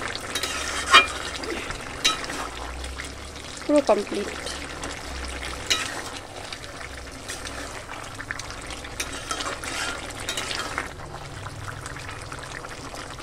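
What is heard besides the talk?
pumpkin greens ghonto boiling in the pan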